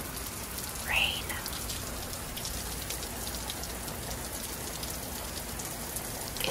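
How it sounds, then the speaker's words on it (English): Steady rain falling outdoors, a continuous close patter and hiss of drops that barely changes, with one brief brighter sound near the start. "Here is a snippet of"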